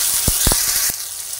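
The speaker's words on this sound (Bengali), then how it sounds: "তিলটা তেলের মধ্যে দিয়ে ভালো করে ভেজে নিচ্ছি" Sesame seeds frying in hot oil in a pan with ginger already fried in it, over a lowered gas flame. A steady close sizzle carries a few soft knocks, then quiets slightly partway through.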